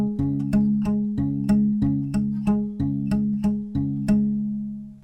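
An acoustic guitar plays a fingerpicking pattern with an open 5th string bass note, a steady, even run of plucked notes over ringing sustained chords, close and clear with no talking.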